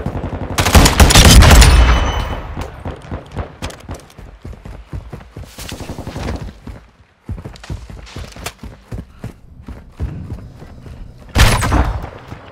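Gunfire in Modern Warfare II Domination multiplayer: loud bursts of rapid automatic fire, a dense volley at the start and again near the end, with scattered single shots and footstep-like clatter between.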